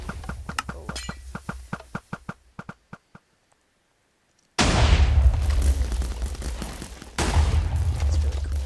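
Mech-mounted cannons in a video game fire a quick rhythmic volley of sharp booms that taper into silence, then a heavy explosion erupts into a loud sustained rumble, swelling again with a second blast.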